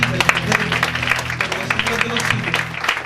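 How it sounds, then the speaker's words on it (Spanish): Church congregation during a Spanish-language worship service clapping together, a lively burst of applause over a sustained low musical hum, with voices mixed in. "Dale un aplauso al que vive."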